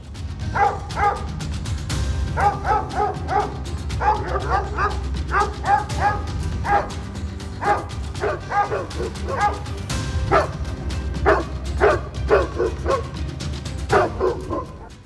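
Stray street dogs in Delhi bark repeatedly and close by, in rapid bursts of yelps and barks that continue for about fifteen seconds over a low background rumble.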